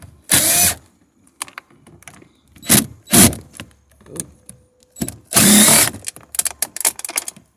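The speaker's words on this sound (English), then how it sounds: "Now we're going to undo these bolts and get the mirror off. 10mm on a drill" Several short, loud bursts of a power drill with a 10mm socket whirring up close as it undoes the door mirror bolts on a 2015 Chevy Equinox, separated by pauses and faint clicks and handling noises.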